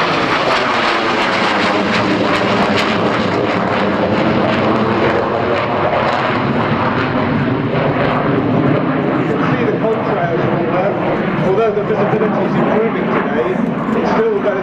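Loud, continuous roar of the twin jet engines of a de Havilland Sea Vixen spooling up at a Fly Navy air display, steady and broadband for the whole stretch, with a commentator speaking over it.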